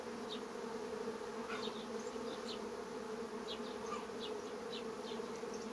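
A honeybee colony inside its hive gives a steady, faint, even buzz with no breaks. The colony is in swarming fever but still resting and has not yet started to swarm.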